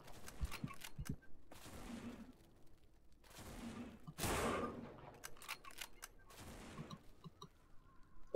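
Gunshots in the zombie shooter No More Room in Hell: a quiet series of separate sharp cracks spaced irregularly, a few in quick succession, with brief gaps of near silence between them.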